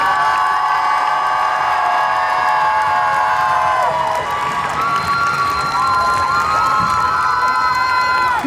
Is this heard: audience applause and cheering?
yes